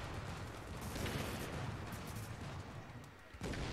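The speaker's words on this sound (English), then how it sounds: "Shotguns everywhere" Shotgun fire in The Division, a dense continuous barrage of blasts and battle noise at a steady loud level, with a brief dip before another heavy shot near the end.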